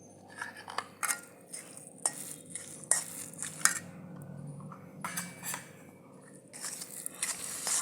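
Colour being stirred into a barfi sweet mixture, a quiet run of scraping and clinking taps of a spoon against a pan or dish, irregular and close, with no voices.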